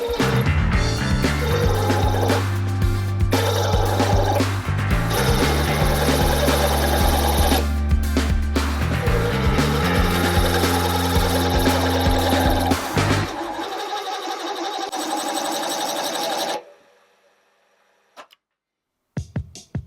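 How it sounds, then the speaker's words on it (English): Machining a rounded counterbore for a bass string's ball end in a bass bridge part, a loud steady mechanical whine with shifting tones running for about sixteen seconds before stopping abruptly into near silence. "I'll cut a rounded counterbore where the ball end of the string sits"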